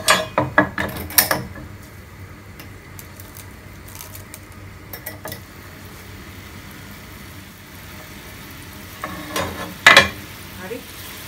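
Spaghetti sauce with chili flakes stir-fried in garlic oil, giving scattered utensil clatter and scraping over a faint sizzle, with busier bursts at the start and again near the end, no voices.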